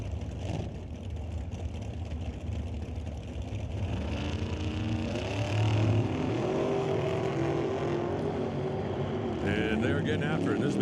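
Top Comp drag racing cars launching at an NHRA Northwest National Open Series event, engines building from a rumble into a loud rising roar as they leave the line, with an announcer talking over it.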